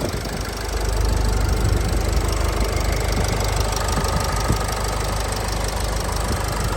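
A Renault Koleos 2.0 dCi diesel with automatic transmission and four-wheel drive idles steadily close by, a continuous low engine rumble with a faint knocking texture and no voices.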